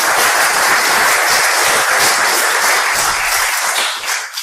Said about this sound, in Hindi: तो एक जोरदार ताली डीएक्सएन के लिए हो सकती है।